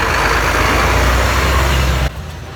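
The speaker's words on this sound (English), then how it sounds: "Thank you, truck." A truck passes close on a mountain road in Georgia, its loud engine roar and tyre rumble sustained before cutting away abruptly to quieter ambience.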